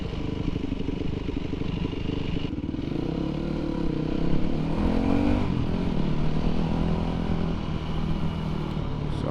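A 2005 Yamaha WR450 dirt bike is ridden close by, its engine revving and buzzing loudly as it accelerates and shifts, with some rattle and clatter over the engine note.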